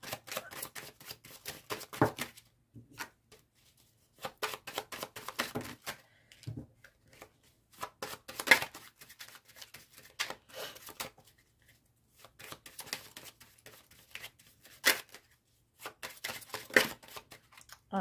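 Oracle cards being shuffled and the deck cut, heard as a run of quick, close papery riffles and flicks in bursts separated by short pauses.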